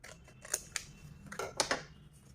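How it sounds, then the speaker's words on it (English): Scissors cut through a paper envelope close by, a few quick crisp snips and rustles of paper over low background hum, with no talking. "So right now I'm showing you with scissors."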